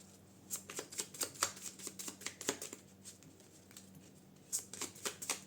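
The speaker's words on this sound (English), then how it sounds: "This is a new deck, quite difficult to shuffle actually." A new deck of tarot cards is shuffled in quick, crisp riffling bursts, with soft irregular flicks and a short pause before shuffling resumes; quiet and close, no talk.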